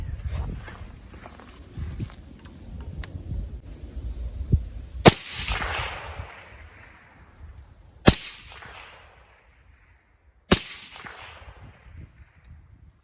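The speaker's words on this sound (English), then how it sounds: "I'm gonna get this Bear Creek Arsenal 300 blackout upper sighted in." A Bear Creek Arsenal 300 Blackout rifle firing 110 grain Hornady rounds at a 100-yard target gives three sharp, loud shots spaced a few seconds apart, each with a decaying echo, over quiet outdoor background and footsteps.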